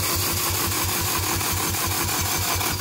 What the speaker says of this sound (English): now I can crank the engine and check the compression for the first cylinder that we're gonna test